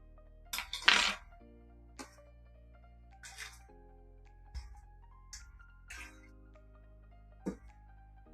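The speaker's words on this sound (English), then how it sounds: "Just a quick little stir like that." A cocktail stirred with ice in a bar glass gives a few sharp clinks and rattles, loudest near the start and then sparse, with short knocks spaced over several seconds and quiet between them.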